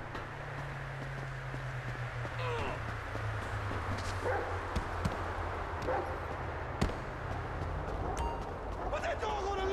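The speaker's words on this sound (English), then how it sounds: "Put that dog on a leash!" A dog barks in the video game GTA V, a few short yaps and bowwows scattered over a low steady engine-like drone, with game noises and occasional voices mixed in.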